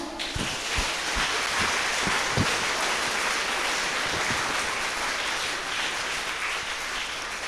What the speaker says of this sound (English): please give a round of applause to everyone